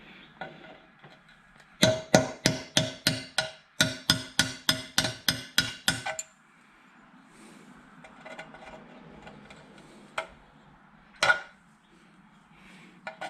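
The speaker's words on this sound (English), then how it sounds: "I think we're going to have to kind of hit it with a chisel a little bit" A chisel struck against a rusted ball joint on a Hyundai Santa Fe, ringing metallic hammer blows in two quick, steady bursts of about six, then a couple of isolated clanks, with quiet workshop ambience between.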